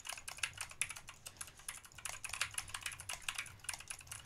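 Typing on an Asceny One 60% mechanical keyboard during Fortnite play: a fast, steady patter of crisp key clicks, close and fairly quiet, with no talking.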